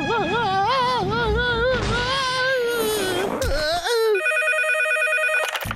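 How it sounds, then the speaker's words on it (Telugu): A cartoon telephone rings out in a steady electronic trill near the end, after a wailing, crying cartoon voice. "ఎవడు ఈ టైంకి ఫోన్ చేసేది?"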